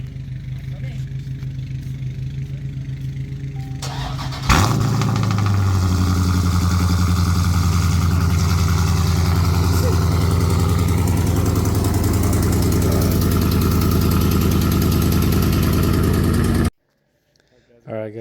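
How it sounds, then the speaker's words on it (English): A Dodge Scat Pack car engine idles steadily after a header install, running with a slight exhaust leak and unplugged O2 sensors; a low, even rumble grows louder after a few seconds, holds, then cuts off near the end. "it's gonna have a little exhaust leak because of the O2 sensors not being plugged in"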